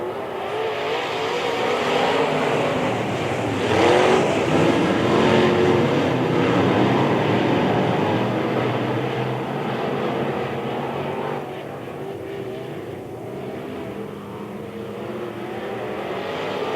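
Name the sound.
B modified race cars racing at Springfield Raceway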